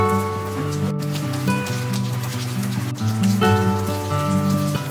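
Steady, dense patter of heavy rain falling on surfaces near Chamba, India, continuous and close, with a low tonal hum underneath.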